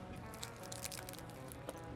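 Someone bites and chews a chicken shawarma fattoush wrap with bell peppers, cucumbers and radishes, making faint, close, crisp crunches and soft squishes in a steady run with no talking.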